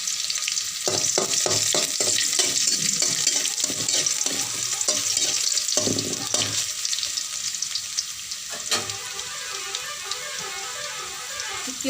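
Garlic and chillies fry in a pan of greens for a fried saag dish, a steady close sizzle broken by repeated scraping stirs.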